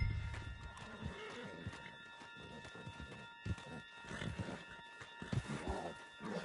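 Video-game horse from Red Dead Redemption 2 giving a neigh alongside hoof clip-clop, faint and mixed into a busy game soundscape with a steady tonal hum.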